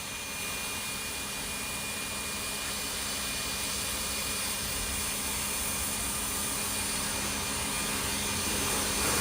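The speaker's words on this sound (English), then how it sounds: "Now this is the medium speed of the blower." A Yarbo robot leaf blower runs steadily at medium speed outdoors, giving a loud, continuous broadband whoosh with a droning motor tone and no break.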